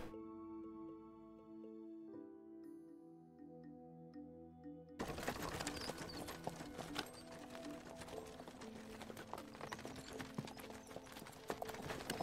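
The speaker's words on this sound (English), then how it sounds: "And incredibly loud horses for the win." In the game Kubifaktorium, after a few seconds of soft tones, rapid clip-clopping hooves start up and continue loudly and steadily, like several horses trotting close by.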